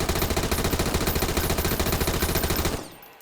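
Submachine gun with a 40-round magazine firing in the video game Sunkenland, a rapid sustained burst of evenly spaced shots for nearly three seconds, loud and close, then cutting off into a brief fading tail.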